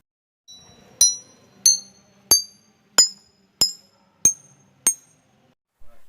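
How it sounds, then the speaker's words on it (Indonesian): Seven bright, ringing glass-bottle notes are struck one after another at an even pace, each chiming clearly and decaying in a quiet room, with a softer knock at the very end. "contohnya itu alat musik pada botol kaca"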